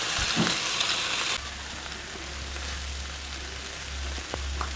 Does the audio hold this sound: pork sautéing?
yes